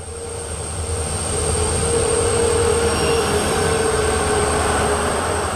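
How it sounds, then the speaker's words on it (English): A train rumbles steadily with faint wheel squeal and a hum at Mormugao Port in Goa, where wagons are filled with coal, the loud, continuous noise swelling slightly and then holding even. "Here train wagons get filled with coal to transport it all over the country."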